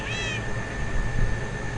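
A house cat gives a short, clear meow near the start, heard faintly over an outdoor background hum with no talking.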